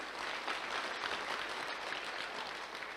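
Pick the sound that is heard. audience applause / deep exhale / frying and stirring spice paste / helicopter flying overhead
audience applause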